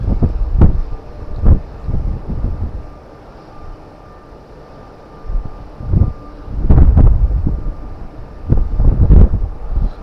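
Gusts of strong wind buffet the microphone on a boat at sea during cod fishing, coming as loud low rumbling thumps that rise and fall irregularly over a steady background.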